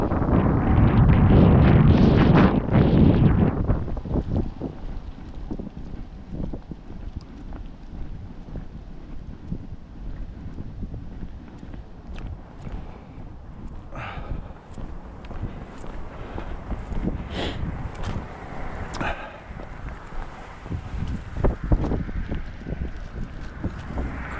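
Strong gusts buffet the microphone on a cold night walk in Maine, with a heavy roar at first that settles into steady rushing wind, plus faint footsteps and scattered knocks.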